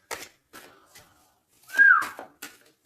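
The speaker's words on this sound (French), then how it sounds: "Non, c'est pas bien siffler, pardon." A person whistles briefly, one clear sliding note rising and falling close by, set between soft clicks and faint sounds in an otherwise quiet space.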